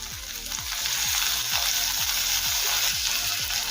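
Onion, ginger, garlic and tomato fry in a pan with a steady, close sizzle, while a rhythmic repeated knocking from stirring runs underneath throughout.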